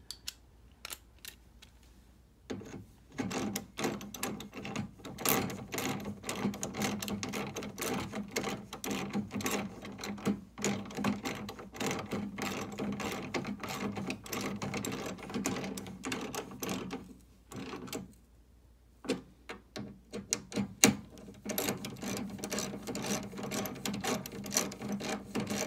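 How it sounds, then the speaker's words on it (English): A socket wrench on an extension cranks down bolts on a Honda snowblower, a long run of rapid, close ratcheting clicks with two brief pauses, moderately quiet. "Crank those down. Get a socket extension going here."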